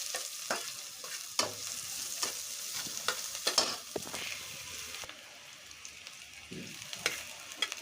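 Finely chopped onion, ginger, garlic and chili frying in a little oil, a soft sizzle broken by repeated scraping stirs of a spatula against the pan, fairly quiet with no talk.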